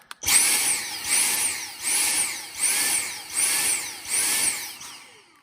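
A clogged Dyson handheld stick vacuum motor surges up and down in a regular pulsing cycle, whining louder then dropping about once per second, six swells in a row.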